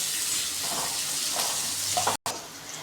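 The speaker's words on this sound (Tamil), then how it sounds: "வெங்காயத்தை நல்லா வதக்கிக்கோங்க." Onions sautéing in a hot pan for chana masala, a soft steady sizzle and crackle of frying heard close up, with a brief gap near the end.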